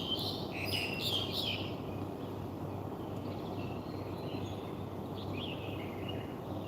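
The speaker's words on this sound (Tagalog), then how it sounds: "Ang daming mga ibon talaga dito." Many birds chirp and tweet outdoors in bright bursts above a steady, rumbling background of wind or distant traffic noise, clearer at the start and fainter later.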